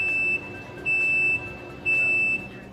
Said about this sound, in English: The oven will beep when the baking cycle is finished.